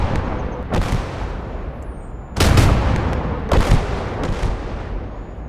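Artillery fire in the Gates of Hell war game: heavy booming shots land one after another, each sharp blast trailing a rumbling decay, loud and close with no talk over them.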